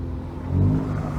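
A car with a burble-and-pops exhaust tune revs once, loud and close, in a short throaty surge that rises and then eases off.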